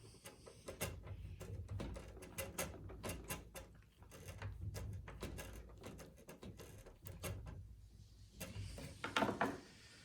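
A large, thick screw is worked out of a Dell Inspiron desktop case, giving a steady run of close mechanical clicks and ratcheting ticks with no talk.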